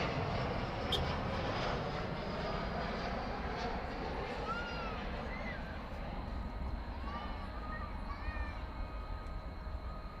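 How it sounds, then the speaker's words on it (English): An American Airlines Airbus A321 from Chicago arrives at DFW Airport at night, a steady, moderately distant engine rumble lasting the whole stretch, with faint chirps scattered over it. "Here comes an Airbus A321 from Chicagoland."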